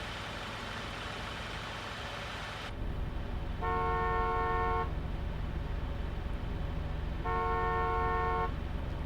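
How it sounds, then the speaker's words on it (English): A tourist bus horn in a driving simulator game blares twice in long steady blasts over a continuous engine drone, the second honk a few seconds after the first. "Have we got a horn?"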